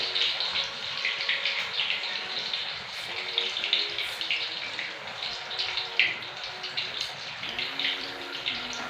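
Tap water runs steadily into a pot being filled for pasta, a continuous close rushing hiss that holds at an even level with no talking.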